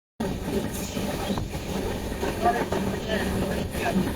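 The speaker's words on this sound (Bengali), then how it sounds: "ট্রেন এখন ঢুকলো নিউ ফারাক্কা জংশনে।" The Uttarbanga Express rolls into New Farakka Junction with a continuous, steady rumble of carriages on the track, heard from inside the coach with faint voices underneath.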